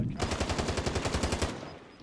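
Rapid automatic gunfire from a Call of Duty: Modern Warfare match, a steady burst of about a dozen evenly spaced loud shots lasting over a second, then a fading tail.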